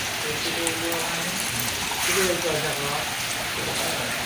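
Steady rain hisses across surfaces in a constant wash, while people talk and call out faintly beneath it.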